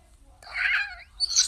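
A person imitates a cat's meow with their voice, giving one drawn-out, nasal mewing call followed by a shorter, higher second cry, close and fairly loud over a faint low hum.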